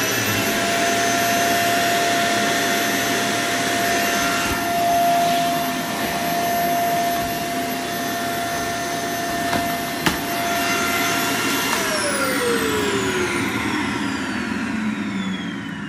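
A BISSELL Zing bagless canister vacuum cleaner runs loud and steady up close with a constant whine, then the motor winds down near the end as it is switched off.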